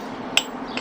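One sharp, close hammer tap drives a 1.25 inch oil seal into a 1973 Harley-Davidson Sportster, followed by a fainter second tap against a low steady hum.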